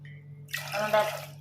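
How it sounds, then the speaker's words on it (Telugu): Water is poured over lentils in a vessel to rinse them, a close splashing gush that begins suddenly after a short quiet moment and runs to the end. "ఇలా వాటర్ పోసి పప్పు అంతా క్లీన్ చేసుకోవాలి"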